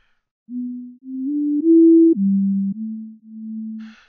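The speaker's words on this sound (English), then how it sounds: "now that same sine tone sounds a little bigger, especially since it's panned apart here." Pure, smooth electronic tones hold steady pitches, stepping up several times and then dropping lower, with brief gaps and a tiny click at the end.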